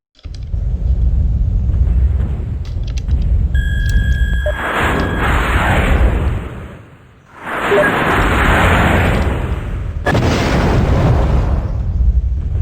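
Loud, dense game explosions from the MechWarrior 2 NetMech battle, several broad blasts with rumbling low end rolling into one another, a brief dip near the middle, then renewed bursts, close and continuous with no talk.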